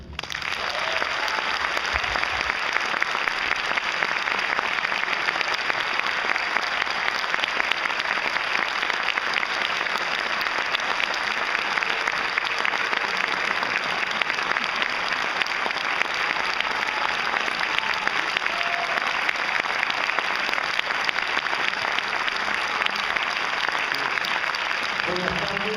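A lecture audience applauds in welcome of Dr. Lorenzo Meyer, a long, sustained, dense round of clapping that holds steady and fairly strong throughout, from many hands at once.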